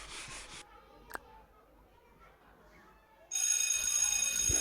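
A telephone in the Avatar World game gives an electronic ring. It starts partway through and plays loud and steady over a quiet background, after a brief earlier burst of similar tone.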